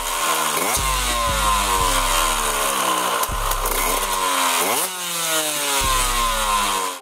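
A KTM 125 EXC two-stroke dirt bike engine with a properly working power valve, revved hard several times in quick rising bursts that drop back between blips, loud and close, with no talking.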